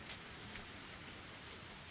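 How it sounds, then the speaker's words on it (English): Steady pouring rain hisses evenly and continuously in the visual novel game Higurashi: When They Cry, a soft, dense wash of rainfall with no voices. "The rain was still pouring."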